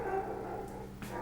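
A neighbour's dog next door gives a short, muffled bark or yip at a distance, faint against a low background hum.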